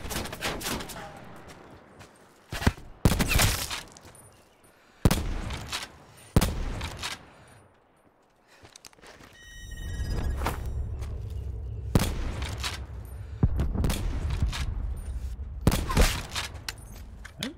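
Gunfire in the Call of Duty video game: loud, sharp shots cracking at irregular intervals, then a sustained rumbling roar with more shots breaking through it.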